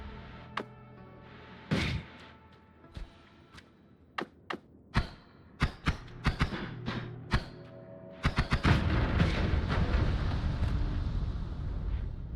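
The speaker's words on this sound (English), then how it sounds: "That was 3 explosions." Sharp bangs and thuds from explosions in the video game Noita go off in an irregular series, ending in a long, loud roaring blast that fills the rest of the sound, with no talking.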